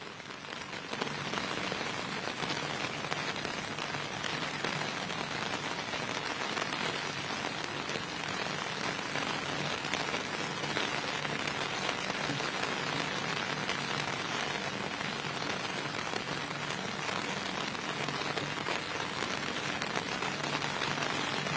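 Heavy rain pours outdoors at a stadium gathering, a dense, unbroken hiss of drops striking surfaces that stays loud and steady throughout, with no voices.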